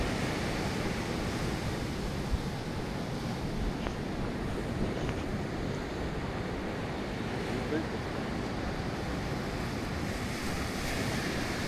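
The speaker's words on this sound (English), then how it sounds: "listen to those waves crash" Ocean waves roll and crash onto a beach on the Outer Banks in a steady, broad roar, with wind buffeting the microphone throughout.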